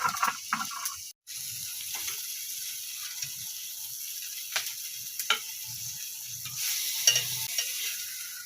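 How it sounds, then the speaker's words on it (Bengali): Fish fries in a pan with a continuous sizzling hiss, broken by scraping clinks and a few clatters from a spatula or utensil, close by and without speech. "মাছ ভাজা নামাই"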